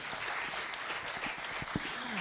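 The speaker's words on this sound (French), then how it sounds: "Est-ce qu'on peut encore l'applaudir, s'il vous plaît?" A conference audience applauds, a faint continuous wash of scattered hand claps with a few sharper individual claps standing out.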